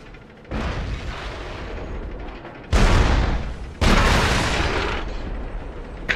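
World of Tanks tank cannon blasts during a clan wars battle: two heavy booming shots about a second apart, each a sudden loud broadband burst that rolls off slowly, over a constant rumbling din of battle.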